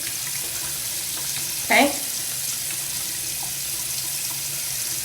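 Water runs steadily from a bathroom sink tap during face washing, a constant hiss throughout with a brief spoken word over it.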